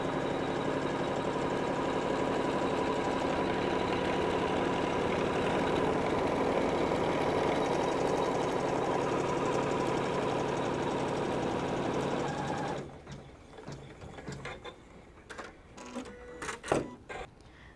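Embroidery sewing machine sewing a tack-down line with white thread, holding lining to the front of a tool pouch: a steady, dense mechanical whir for about twelve seconds, then it stops, leaving faint clicks and handling noises.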